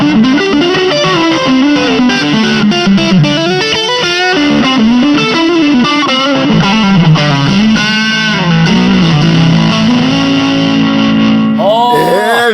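Electric guitar played through a ZOOM MS-200D+ distortion multi-stomp with a booster engaged, giving a loud, saturated lead tone with boosted mids, sustained bends and fast phrases, and a sliding flourish at the end.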